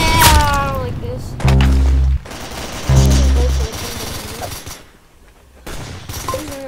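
Bursts of automatic gunfire from a sniper-style shooter video game, loud, dense rattling volleys repeating in two main stretches, with a voice talking at the start and near the end.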